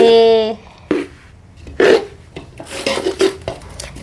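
A ladoo mixture is stirred and scraped in a metal vessel in a village kitchen, with intermittent scraping and clinking strokes that sound close, after a brief tonal burst at the start.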